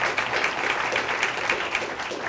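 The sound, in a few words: audience applause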